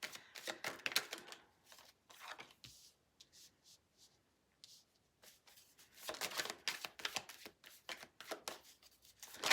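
Tarot cards are shuffled and laid down on a table. Quiet, close riffles and slaps come in rapid bursts, pause briefly, then resume, with no talk.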